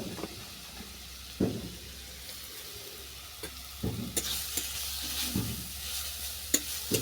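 Grated radish frying in melted ghee in a pan for radish halwa, a steady soft sizzle with a few louder scraping stirs scattered throughout, quiet and close with no talking.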